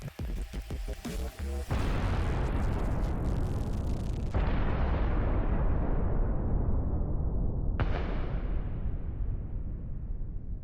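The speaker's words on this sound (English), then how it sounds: "This is a Russian truck with ammunition, which will detonate in a few seconds after a Ukrainian drone strike" A Russian ammunition truck detonates after a Ukrainian drone strike. Heavy booming blasts roll out and sustain for several seconds, with a fresh sharp burst partway through, all heard loud from a distance.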